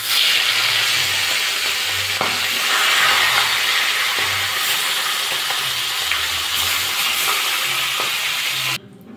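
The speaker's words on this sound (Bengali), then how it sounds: "মাছের মাথাগুলো এবার ভাজা করে নেব।" Fish heads frying in hot mustard oil in a wok give a loud, steady sizzle and hiss that runs the whole way, with occasional clinks and stirring scrapes, then cut off abruptly near the end.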